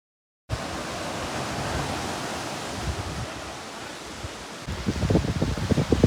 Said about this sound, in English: now we are at the Pebble Beach, just 6 minutes away from Cabo de Rama Beach